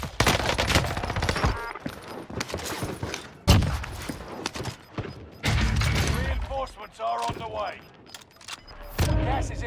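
Gunfire in the video game Warzone on Rebirth Island, loud close bursts of automatic fire in several volleys with mechanical clicks between them, while players talk over it.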